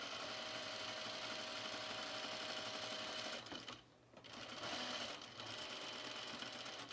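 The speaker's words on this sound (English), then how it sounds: "So I'm just going to gently pull it as I sew." A sewing machine stitches a T-shirt in a steady, close mechanical whir that briefly slows and dips around the middle before resuming at full speed.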